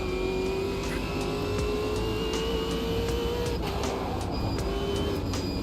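A race car engine in the Automobilista 2 sim racer drones loud and close under heavy torque, its pitch climbing slowly and wavering, then dropping and climbing again, with constant rumble from the car and tyres.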